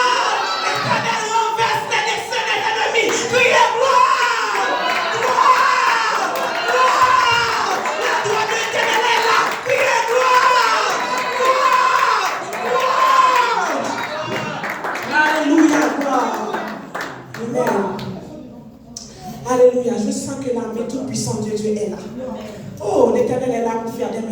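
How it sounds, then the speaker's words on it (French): A church congregation at a loud Sunday service shouts praise and claps together, a dense continuous crowd roar with rhythmic clapping that dips briefly near the end before swelling again. "Que l'église de Dieu de la prophétie crie gloire."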